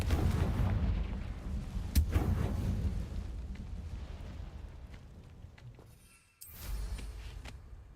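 A Confringo fire-blast spell explodes in the video game Hogwarts Legacy: a sharp close boom opens a sustained rumbling roar that rolls on for several seconds, then cuts out abruptly before a second, lighter rumble rises.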